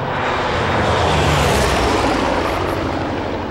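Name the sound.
Corsair fighter plane engine and propeller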